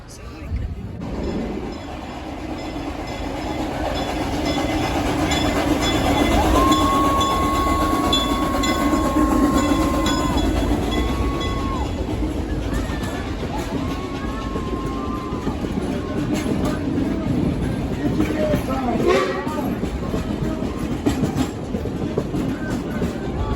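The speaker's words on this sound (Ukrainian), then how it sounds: "закрили переход, зараз буде поїзд тут проїжджати." A train rumbles past a closed level crossing in Missouri, loud and close, its continuous rolling clatter carrying a long horn blast partway through, with people talking faintly underneath.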